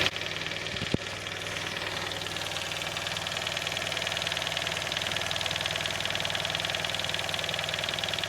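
A noisy car engine, just serviced, turns over with a brief clunk and settles into a steady idle, a close, even rumble with a faint rhythmic tick.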